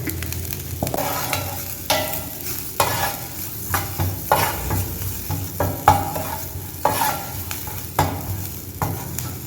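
Chicken rolls frying in hot oil make a continuous close sizzle, with repeated rhythmic scrapes and knocks of a utensil stirring the pan.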